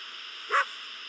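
A single short dog bark or yelp in the Endless Nightmare video game, rising briefly over a steady background hum at moderate distance, with no other barks following.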